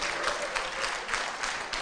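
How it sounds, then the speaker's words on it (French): An audience applauds a singer at a Senegalese music performance, a dense, steady clapping crowd heard close throughout the short burst. "applaudissez pour elle, s'il vous plaît"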